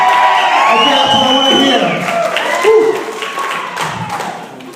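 Wedding guests clap and cheer at a reception during a best man toast, a steady wash of applause with scattered whoops over several seconds, fairly loud and close.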